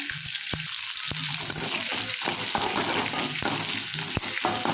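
Continuous close sizzling of small onions frying in oil, with short clinks and scraping from a utensil against the pan.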